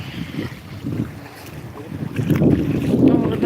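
Someone wades into warm, clear sea water off an Odesa beach, close splashing and swishing that grows louder and busier as they go deeper, over steady wind noise.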